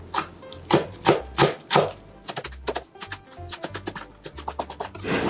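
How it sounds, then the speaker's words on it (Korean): Green onions being finely chopped with a knife on a cutting board, steady rapid taps in quick bursts, close and crisp, with no talking. "쫑쫑 썰어줍니다."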